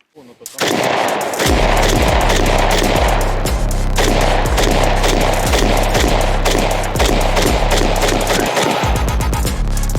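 Loud, sustained bursts of automatic rifle fire, rapid shots rattling almost continuously for several seconds with brief pauses, close and harsh.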